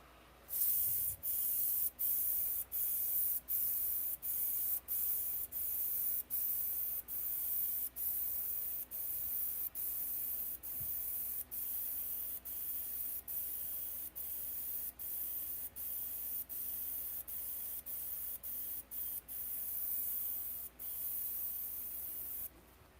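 A steady, loud hiss of coating being sprayed while refinishing a bathtub is cut by many brief regular breaks as the sprayer trigger releases. The passes are faded out at the edges, and there is no talking.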